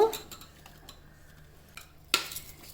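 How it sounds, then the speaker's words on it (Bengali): A spoon mixes chopped apple into yogurt with chaat masala, giving a few soft scrapes and clicks against a bowl, then one sharper clink near the end, with no talk. "দই, আপেল, চাট মশলা সব একসাথে খুব ভালো করে মিশিয়ে নেব"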